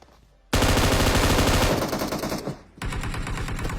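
Automatic gunfire in PUBG Mobile, loud rapid bursts that erupt abruptly, briefly dip, then resume in a second sustained burst, close and dense with no talking.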